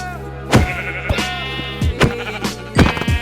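Sheep in a hardcore survival video game bleat in a string of loud, close cries, several in about three seconds, with thuds and clicks from the game between them and no talk.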